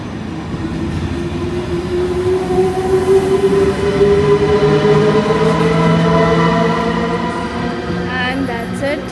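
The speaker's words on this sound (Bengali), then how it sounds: "এটা জার্মানির নিজস্ব ট্রেন ডচ ব্যান আইসিই।" Deutsche Bahn ICE high-speed train at Mannheim station, a steady loud rail rumble with rising tonal whine and wheel squeal lines, continuous throughout with faint voices in the background.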